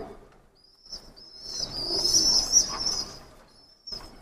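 Pakistani Kasuri pigeons cooing softly in a loft, with bird calls and a brief flutter of wings rising and falling over a few seconds, close by with no talk.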